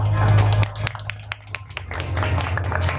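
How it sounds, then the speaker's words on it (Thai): Applause for a Thai literary artist at a press conference for a contemporary artist award, scattered claps rising and falling over a low steady hum, moderately loud and close. "ขอเสียงปรบมือด้วยครับ"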